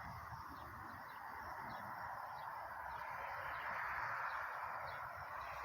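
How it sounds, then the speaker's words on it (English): A starling calling at night outdoors, thin repeated chirps and whistles over a constant insect-like drone and faint background noise. "That's a starling."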